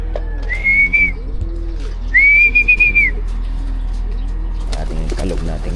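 Whistling and shaking to call racing pigeons at a club training toss, two clear rising-and-falling whistles a second apart amid faint pigeon coos, murmured voices and steady low hum, with rattling shakes toward the end.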